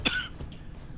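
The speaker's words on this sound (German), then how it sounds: "Das Husten, da denke ich mir, das Gas strömt hier schon wieder ein." A player character coughs in the game Deceit as gas flows in, one short harsh cough followed by a faint second one, fairly quiet against a soft background hum.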